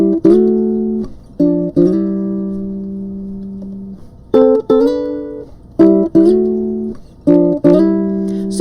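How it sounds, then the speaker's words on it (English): Guitar-style fills from a song, played on a baritone ukulele: short, clean plucked chords and double-stops in a loose rhythm, some held and ringing, close and alone. "there is another guitar playing fills that sound like this."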